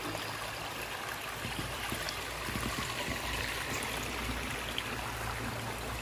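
A small stream of water flows in the Mankulam river, making a steady, continuous rushing and trickling wash with no voices.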